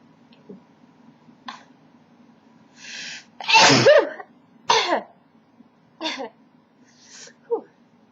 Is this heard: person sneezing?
yes